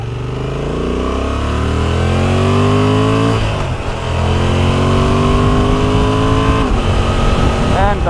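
A loud, nearby 2023 Honda Transalp XL750 motorcycle engine revs up, its pitch climbing steadily, dips briefly, then climbs again in a second long rev.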